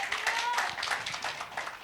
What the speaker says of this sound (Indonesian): Berikan tepuk tangan bagi Tuhan kita.